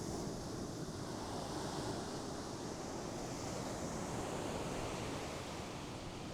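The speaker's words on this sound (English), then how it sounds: "Once a big wave comes in" Ocean waves wash onto a sandy beach in a continuous broad roar of surf and foam, steady and fairly loud, with wind on the microphone and no voices.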